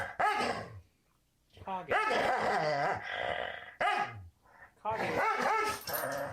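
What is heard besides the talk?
dog growling and barking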